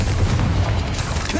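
A Confringo spell blast in a Hogwarts video game lands as a loud, close, rumbling boom with a deep low end, sustained and fading slightly over a second and a half.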